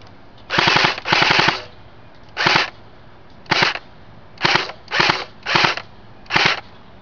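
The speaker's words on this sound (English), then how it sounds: "Alright, I'll take a few full auto burst sprays at it." Full-auto bursts from a CYMA Thompson 1928 airsoft electric gun fired outdoors near a house: eight short, crisp rattling bursts, the first two a bit longer, separated by brief pauses and quiet background.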